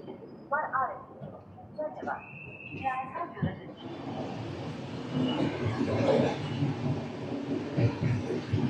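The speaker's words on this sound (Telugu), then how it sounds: "వర్షం స్టార్ట్ అయింది." Rain starting to fall during a journey on the Garib Rath Express leaving Rajahmundry station, a steady broadband wash that thickens from about four seconds on, with rumbling train noise and a few voices in the first half.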